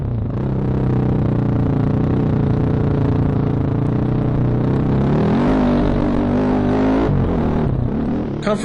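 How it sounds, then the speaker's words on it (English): A Sherco 4.5i off-road motorcycle engine runs smoothly and climbs steadily through its revs, its droning tone rising over several seconds before dipping and picking up again, loud and close. "The motor is so smooth that it hardly feels like it's making power as it climbs through its revs"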